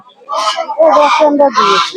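Chinese duck ducklings at a traditional village poultry market give three loud, close, nasal honking calls in quick succession, each about half a second long.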